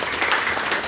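Brief, dense clapping from an audience at an academic session on mind management, a short burst of applause heard up close.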